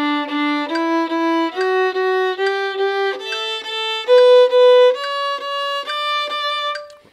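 Violin playing a run of short bowed eighth notes, pairs of notes stepping gradually upward in a steady even rhythm, clear and close with no talking.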